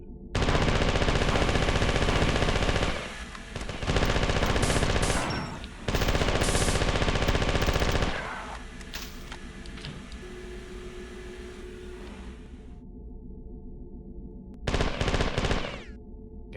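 Rapid automatic gunfire from the Xbox Live Arcade release of the Marathon 2 video game comes in long, loud sustained bursts, separated by brief pauses, then a quieter stretch before one last short burst near the end.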